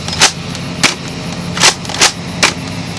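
A Nerf Quick 16 blaster fires foam darts in a quick irregular volley, five sharp puffing snaps within a few seconds, close and fairly loud over a steady background hum.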